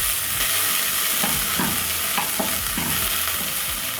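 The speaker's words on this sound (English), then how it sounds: "I'm going to add my onions. Stir. Then I'll cook this until soft." Onions fry in flavorful oil left from searing meat, a constant close sizzle broken by several rhythmic scraping stirs of a utensil in the pan, with no talking.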